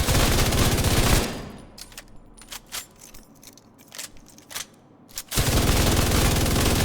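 Sustained rapid assault rifle and LMG fire in The Division 2, a loud dense burst that stops for a few seconds with scattered shots and impacts, then resumes at full intensity.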